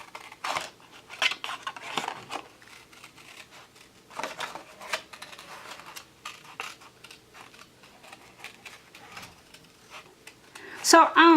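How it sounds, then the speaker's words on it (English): Scissors snip through paper along a traced llama outline, a series of short, crisp cuts in irregular bursts, fairly close, with a louder clatter near the end and no talking. "So I'm going to cut out what I traced."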